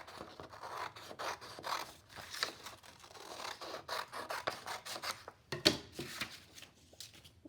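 Scissors snip through paper in a craft setting, a quiet run of short, close cuts and rustles repeating in an uneven rhythm.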